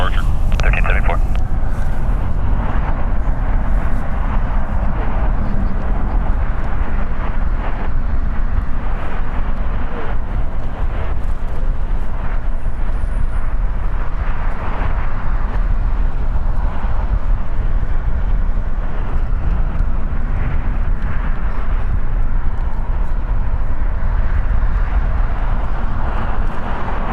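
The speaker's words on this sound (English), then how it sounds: "Once again, that is a Boeing 787-9 Dreamliner, 4 years old." A four-year-old Boeing 787-9 Dreamliner arriving at LAX after a long-haul flight, its steady loud jet roar filling the whole stretch with a broad rumbling wash, a voice speaking over it at times.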